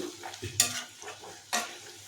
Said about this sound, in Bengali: এটাকে আমরা কড়াইতে মিনিট দশেক মতো লো ফ্লেমে ভাজা করে নেব